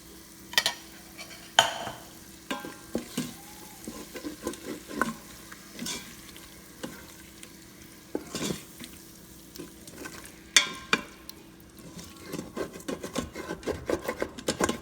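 Curd is stirred into biryani masala in a pot for chicken dum biryani, giving a steady run of scraping, squelching stirs with a faint sizzle. The strokes come close and irregular, with no talking.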